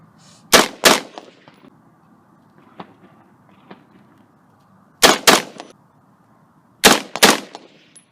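A PSA 16-inch stainless mid-length AR15 hunting rifle firing outdoors: three sharp pairs of loud, close shots in quick doubles, spaced a couple of seconds apart, with faint ambient noise between them.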